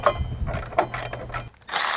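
Ratchet wrench tightening nuts on a running board bracket of a 2020-2022 Jeep Gladiator, quick clicking pawl strokes in short bursts, close and clear.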